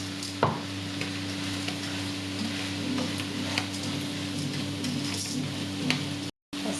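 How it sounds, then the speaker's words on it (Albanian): Rice stirred in a pan with sautéed onion and squash for risotto, with a soft, steady sizzle and occasional scraping of the spoon, heard close and fairly quiet with no talking. "Ta përzirim avash, nuk duam ta skuqim orizin"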